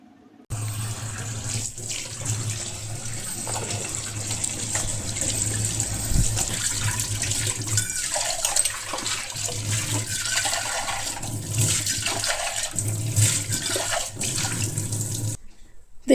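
Tap water runs steadily into a sink while a copper utensil is rinsed beneath it, the constant splashing broken by occasional clunks and shifts as the metal piece is moved under the stream.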